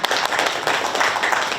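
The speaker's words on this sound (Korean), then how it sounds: "큰 박수 부탁드립니다." A hall audience at a youth-organisation sponsorship-day event gives a brief burst of dense, steady clapping, fairly loud and close, with no voices over it.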